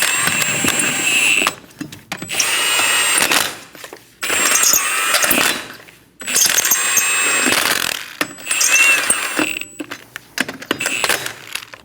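Lug nuts being tightened on a 2008-2015 Scion xB 2.4L wheel, a close, loud power tool running in about five bursts of a second or two each, separated by short pauses with faint clicks.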